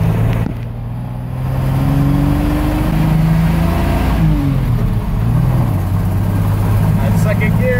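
A Willys jeep engine revs steadily and shifts into second gear while driving, with a rising mid-range drone that holds loud and close throughout. Someone talks over the engine noise.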